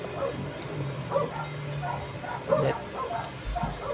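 A pet dog barking and whimpering in the room, several short yips and woofs spread across the moment, fairly faint and mixed with game sounds and a person talking.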